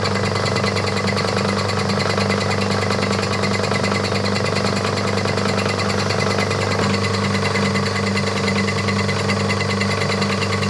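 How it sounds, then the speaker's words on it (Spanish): A drill bores 1.5 mm screw holes in a Telecaster guitar, producing a loud, sustained, even whine with a buzzing, vibrating tone that holds steady throughout, without speech. "Y ahora le está haciendo los agujeros para..."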